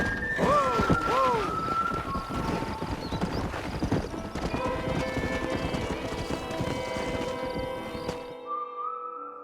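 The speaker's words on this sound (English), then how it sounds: "We got some fine horses." Horses in the Red Dead Redemption video game clop along in a steady trotting rhythm, with a couple of clear whinnies near the start, before the sound cuts off abruptly at the end.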